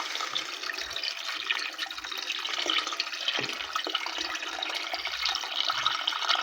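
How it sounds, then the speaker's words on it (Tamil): Water pours steadily into a cooking pot, about three-quarters of a litre for a fish curry, with a soft, hissing splash, faint and continuous, with a few small knocks and no voices. "நான் ஒரு 3/4 லிட்டர் தண்ணி ஊற்றிருக்கேன்."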